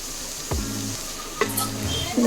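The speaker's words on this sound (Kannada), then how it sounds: "ಇವಾಗ ಈ ಫ್ರೈ ಸ್ವಲ್ಪ ಚೆನ್ನಾಗಿ ಹಂಗೆ ಆಗ್ತಾ ಇದೆ" Masala fries in a pan for mushroom potato pulao, with a steady sizzle broken by two distinct stirring scrapes of a spoon against the pan, one in the middle and one toward the end.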